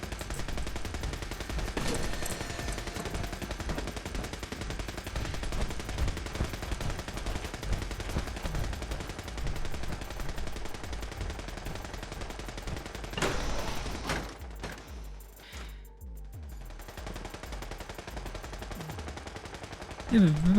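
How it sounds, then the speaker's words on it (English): Continuous rapid gunfire from the video game Fallout 4, dense automatic bursts rattling steadily for most of the stretch before thinning out, with occasional spoken remarks over it. "God, this shooting is annoying."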